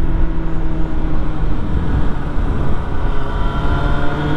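Motorcycle ridden on a winding mountain road: a steady, loud engine drone with wind rumble, continuous and without talk.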